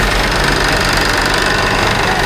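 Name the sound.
rice mill engine running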